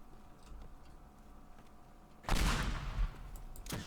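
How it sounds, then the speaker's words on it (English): Building destruction from explosions in the video game Teardown, a sudden loud roaring blast with crackling debris that rumbles for about a second, a second burst near the end, after a quiet stretch of faint ticks. "At least we get to see the detail of these explosions."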